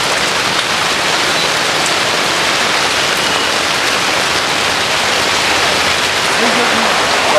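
Heavy first monsoon rain pours steadily in Dabhoi, a loud, dense, unbroken hiss of water on surfaces throughout, with indistinct voices faintly mixed underneath.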